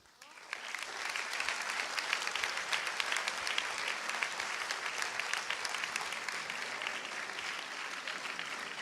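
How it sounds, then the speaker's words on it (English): A large audience at the 2024 graduation ceremony of GEMS American Academy Qatar applauds a mentor, producing dense, sustained clapping that holds steady and full for nearly nine seconds with no talk over it. "Round of applause for Mr. Lentz."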